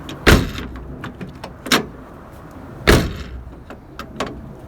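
Toyota Tercel car door handled during interior panel removal: a few sharp clunks and latch clicks spaced apart, close and fairly loud, with small rattles in between and no talking.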